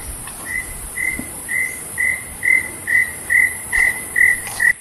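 Insects and birds in a calm treetop setting in Thailand: a steady high insect drone runs throughout while a cricket-like chirp repeats about twice a second, even and fairly close, with no talking.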